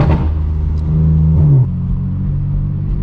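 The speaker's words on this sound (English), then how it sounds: "It sounds insane once you step on that gas pedal. Those wastegates open up." A straight-piped BMW M4 F82 with turbo wastegates revs loudly under acceleration, a deep droning exhaust rising in pitch and then dropping back to a steady rumble as the throttle eases, heard from inside the car.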